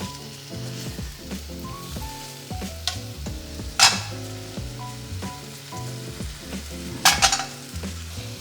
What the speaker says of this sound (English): You hear a nice sizzle.